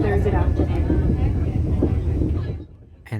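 NSW passenger train departing Canberra towards Sydney, a steady low rumble of rolling carriages heard from inside, with someone talking over it before a sudden drop and a clunk at the end.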